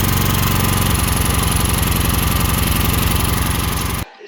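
A Honda EX1000 generator engine runs close by, a loud, steady mechanical drone with a rapid even pulsing beat, holding constant for about four seconds before cutting off abruptly.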